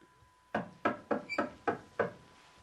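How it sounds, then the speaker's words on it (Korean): Six firm knocks on a wooden door in an even, deliberate rhythm, close and clear, set against a quiet room with no voices. "그녀가 가리킨 문으로 다가가 노크를 했다"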